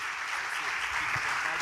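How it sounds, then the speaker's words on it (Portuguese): A church congregation claps together at an anniversary service, a brief burst of dense, steady applause with no break. "vamos honrar o homem de Deus com palmas e com a nossa atenção, em nome do Senhor Jesus Cristo."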